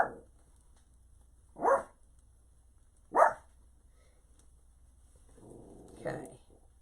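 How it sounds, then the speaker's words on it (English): A dog in a backyard barks at squirrels, three or four sharp, separate barks spaced about a second and a half apart, fairly near, with quiet gaps between them. "loves barking at the squirrels"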